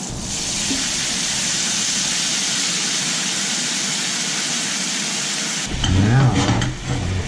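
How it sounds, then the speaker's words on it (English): Worcestershire sauce sizzles in a hot pan with steak, a loud steady hiss that runs unbroken for several seconds before cutting off into clattering and a voice talking. "I'm going to add a little Worcestershire to the pan"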